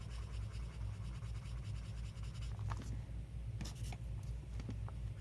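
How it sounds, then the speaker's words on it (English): Soft, continuous scratchy rubbing of a colorless blender pencil on paper, blending colored pencil, close up, with a few sharper strokes, over a low steady hum. "let's go ahead and take our blender pencil"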